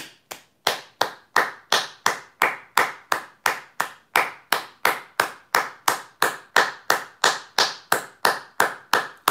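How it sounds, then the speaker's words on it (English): Applause sounds as a single pair of hands claps crisply and close, about three claps per second in an even, unbroken rhythm, with no other sound around it. "Can we give just a short round of applause for Adrian"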